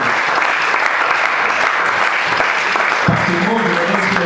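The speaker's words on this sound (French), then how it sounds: "Je voudrais qu'on acclame pour ces pères-là, le papa, le pasteur Adam Makou." A church congregation at a youth worship day applauding their pastor, loud sustained clapping filling the hall, with voices mixed in beneath.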